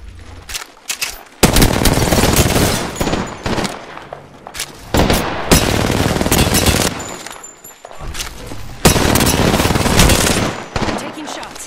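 Loud, close automatic gunfire in Apex Legends pours out in long sustained bursts with brief pauses between them, forming a continuous firefight.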